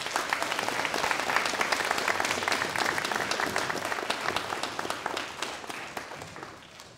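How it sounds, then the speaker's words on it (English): Sustained applause from an audience at an elementary school award ceremony, dense and steady clapping that gradually fades toward the end. "Let's give her another round of applause."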